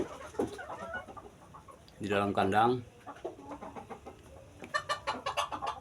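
Several bantam chickens cluck and chatter up close, with a burst of louder squawking in the middle while a person talks over them in Indonesian.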